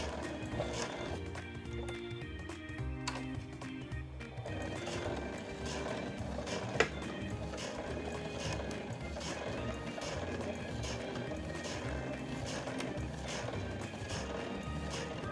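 A sewing machine stitches quilted nubi fabric for a tablet case, giving a steady, rapid rhythmic whirr of needle strokes that runs continuously at moderate volume.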